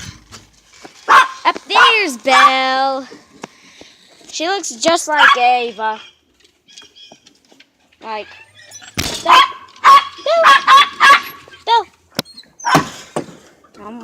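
Several dogs bark and yip in a backyard as they are let outside, the short bursts scattered through the clip and mixed with a person talking over them.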